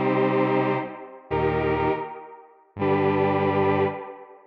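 Three sustained Cherry Audio Novachord synthesizer chords, each cut off and followed by a short roomy reverb tail, played alone with no talking.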